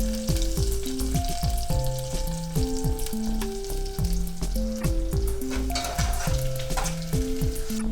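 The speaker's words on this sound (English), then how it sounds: "Let's let that sugar start to caramelize a little bit." Thai chilies and brown sugar sizzle steadily in a hot pan, a loud, continuous frying hiss with tonal background music running underneath throughout.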